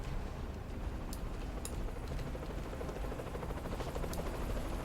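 A helicopter in a video game whirs steadily throughout, a continuous low rotor rumble with a few faint high clicks on top and no speech.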